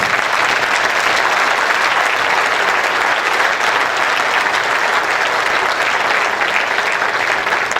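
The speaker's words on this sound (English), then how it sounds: "can I just have a huge round of applause for Players Inc. for pulling this off?" Dense, steady applause from an audience at a Newcastle United black and white reunion evening with former goalkeepers, heard close and continuous for the whole stretch without any talk over it.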